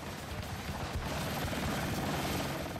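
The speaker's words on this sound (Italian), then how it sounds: "In Vietnam, l'arma aerea regina è l'elicottero, fondamentale per spostare uomini e materiali." A military helicopter flies in a Vietnam War setting, its steady rotor thump and dense engine roar filling the scene continuously at moderate loudness, with no talk over it.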